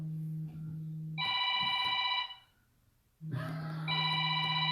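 A phone rings during a Facebook Live broadcast, two bursts of bright electronic trilling separated by a short gap, loud and close over a faint steady hum.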